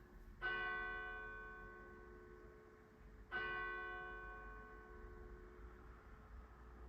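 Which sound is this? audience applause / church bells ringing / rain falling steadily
church bells ringing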